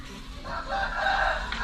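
A fighting cock on a farm in Chachoengsao, Thailand, lets out a single loud, close crow that rises and holds before breaking off, with faint background noise.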